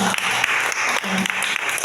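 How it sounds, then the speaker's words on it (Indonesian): Audience applause at a sales seminar in Jakarta, dense, steady clapping from a room full of people, loud and close throughout. "Tepuk tangan kita semuanya."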